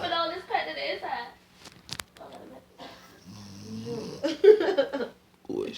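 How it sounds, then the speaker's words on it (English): A woman snores indoors, a low rhythmic rumble rising under loud talk and laughter from nearby people, with a sharp knock partway through. "And she snoring, girl."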